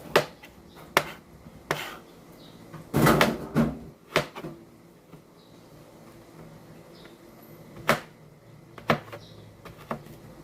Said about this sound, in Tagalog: So matapos balatan, hiwain ang luya